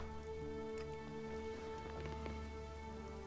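Steady rain falling in the video game Elex, a soft, even hiss of drops on surfaces with faint scattered patters, low in level and with no voices.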